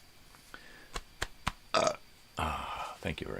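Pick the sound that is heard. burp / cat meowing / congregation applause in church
burp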